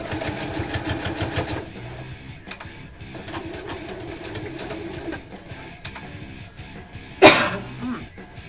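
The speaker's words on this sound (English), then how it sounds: "I'm thankful for this scarf today because it's catching my coughs" A single sharp cough bursts out near the end, close and loud, after a stretch of quiet background noise and rumbling.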